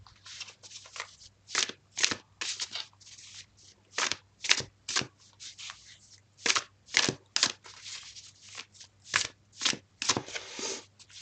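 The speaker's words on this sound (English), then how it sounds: "I'm just going to shuffle the cards," Tarot cards shuffled by hand in a steady series of crisp riffling bursts, about fifteen quick flutters over eleven seconds, close and alone with a low hum beneath.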